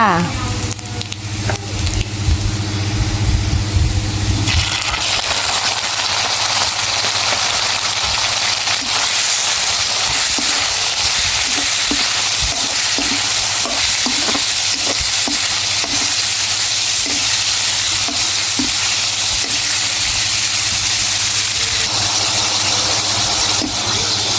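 Sliced pork sizzles loudly in a hot wok for a long stretch, with a steady hiss broken by regular scraping and clattering of a utensil.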